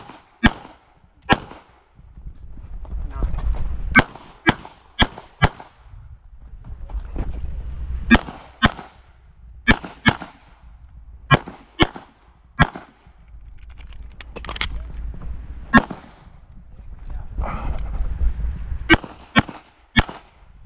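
Pistol shots from a Sig Sauer P320 V-TAC in Limited Division at a USPSA match, sounding as sharp, loud cracks in irregular quick strings and singles, with wind rumble and faint background noise between them.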